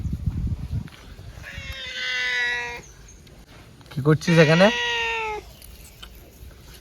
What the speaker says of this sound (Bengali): এদিকে আছে বিড়ালটা গাইস